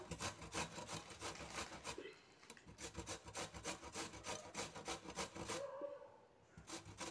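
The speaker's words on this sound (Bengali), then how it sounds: "এবার আমি গ্রেটারের সাহায্যে সুন্দর করে ঘষে নেব, গ্রেট করে নিচ্ছি" Radish being rubbed against a metal grater in steady, rapid back-and-forth strokes, a continuous rasping scrape close up with a brief pause partway through.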